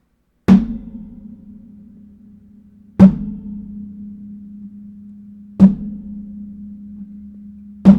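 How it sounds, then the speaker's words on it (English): A ceramic coffee mug is dropped onto a desk four times, spaced a few seconds apart, each a sharp knock followed by a low ringing hum that slowly fades. "we grab the same coffee mug and let's drop it down on the desk."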